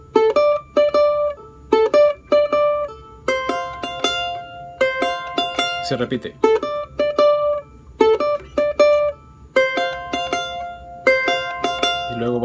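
A charango plays a bright, plucked melody phrase from a song, open fourth string and first-string notes in repeated short groups with brief pauses, up close and fairly loud; a voice speaks briefly.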